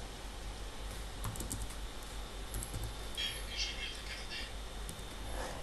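Fingers tap out a search on a computer keyboard, quiet scattered key clicks in a fairly still room.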